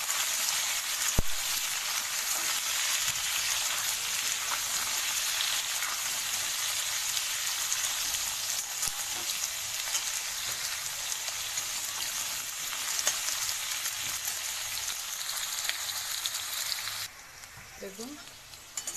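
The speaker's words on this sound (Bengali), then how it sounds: "এই মিক্স সবজি, ক্যাপসিকাম, বিনস, গাজর সব দিয়ে একসঙ্গে আমি হালকা হালকা করে নেড়ে দেবো।" Mixed vegetables including capsicum, beans and carrot fry in a pan with a loud, continuous close sizzle and occasional stirring clatter, until the hiss drops away near the end.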